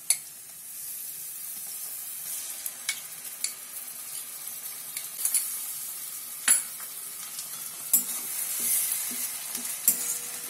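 Browned onions with onion and garlic paste fry in a pan for Bengali aloo dum, giving a steady bright sizzle and hiss with repeated clacks and scrapes of a spoon stirring, close and loud.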